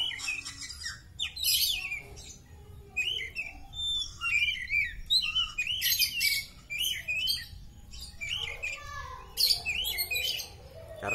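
An oriental magpie-robin sings a varied run of bright whistles and chirps, fairly close, with short pauses between phrases over a low steady background hum.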